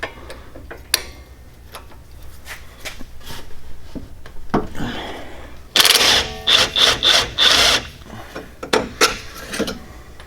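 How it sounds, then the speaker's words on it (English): A breaker bar works loose a tight, crusty lower bolt on a car's suspension during a coilover install, with rhythmic ratcheting clicks and creaks, then a burst of loud grinding, squeaking metal strokes up close. "They're pretty damn tight, so I'm gonna have to use a breaker bar on that one."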